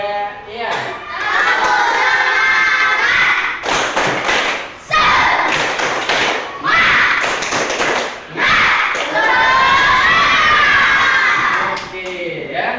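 A class of children performs the rhythmic "tepuk semangat" clapping chant in a classroom, loud bursts of claps and shouted chanting close by with brief pauses between phrases.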